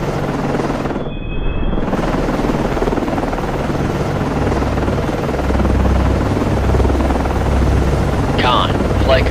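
Helicopter rotor and engine drone from the Cold Waters naval game as an aircraft lands on a ship, a steady loud wash holding through the whole stretch with low rumble rising near the end.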